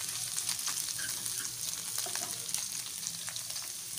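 Chicken frying with chillies in a pan makes a soft, steady sizzle, with faint scrapes of stirring and small crackles across a few seconds and no voices.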